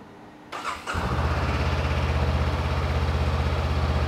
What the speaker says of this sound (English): It's quiet, actually. It's not too loud, which I like a quieter bike nowadays.